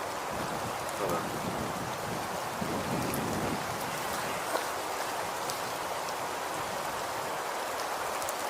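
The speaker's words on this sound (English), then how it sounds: "Rain's going down." Steady rain pours down outdoors at a campsite at night, a dense, continuous hiss with scattered drops striking surfaces and no voices.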